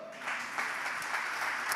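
A church congregation claps together in celebration, a dense, steady patter of many hands sustained through the whole stretch at moderate level.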